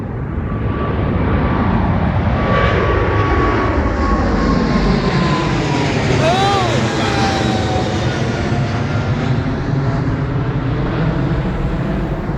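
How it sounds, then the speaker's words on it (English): Aircraft engine roar near Heathrow airport, a loud continuous broadband rumble with rising and falling whine tones as a plane passes close by, steady throughout. "Oh, that's beautiful, that engine roar."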